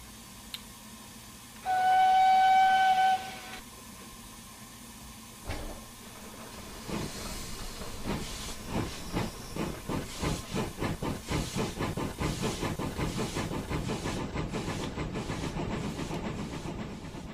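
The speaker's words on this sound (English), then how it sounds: "We've even got the sounds of the brake releasing. We've got the injectors going off, as you can hear there" Steam locomotive in a video game: a short whistle-like tone over steady hiss from the brake release and injectors, then rhythmic puffing bursts that quicken and grow denser, with continuous hissing and no voices.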